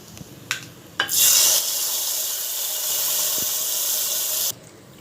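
A couple of sharp clicks, then a sudden loud sizzle as tempering spices and curry leaves hit hot oil, hissing steadily for a few seconds before cutting off.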